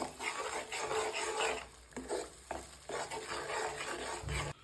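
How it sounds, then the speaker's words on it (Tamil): Continuous sizzling of tomato mixture sautéing in hot oil, with scraping and stirring noises that pause briefly before resuming. "இந்த எண்ணெயிலே கொஞ்ச நேரம் நம்ம வந்து வதக்கிட்டே இருக்கணும்"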